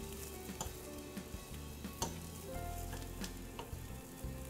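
Strips of bacon sizzle and crackle steadily in a pan on a stovetop burner as the heat is turned up, with scattered sharp pops and clicks over a constant fry and no voices.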